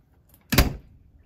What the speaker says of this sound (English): Let's close the door to see if it works